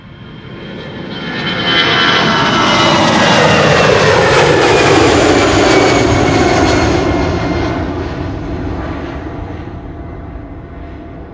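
A Boeing 777-300ER jet airliner bound for Cape Town taking off from the centre runway at Schiphol; a loud jet roar swells over about two seconds, holds with a whining tone, then slowly fades into the distance.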